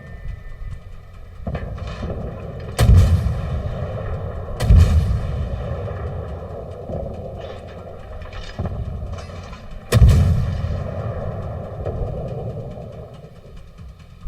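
Naval guns firing in World of Warships, several heavy booming salvos spaced apart over a low ship engine rumble, each blast followed by a rolling decay.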